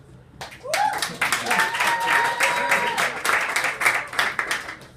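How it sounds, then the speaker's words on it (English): Comedy club audience in New York clapping at a stand-up set, a dense, steady patter of many hands that holds for several seconds, with a voice cutting through the clapping near the start. "clap if you're single"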